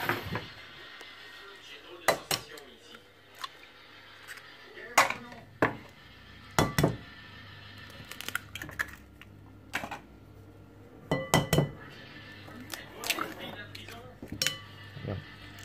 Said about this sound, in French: Donc là, dans le saladier, on va mettre les œufs.